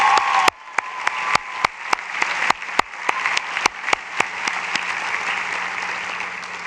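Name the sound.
applause at a university commencement ceremony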